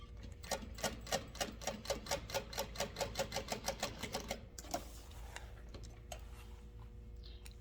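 Sewing machine top stitching a vinyl bag at an eighth of an inch near zipper tabs: a rapid, even burst of mechanical stitching clatter for about four seconds, then a pause with faint handling noise, close and clear.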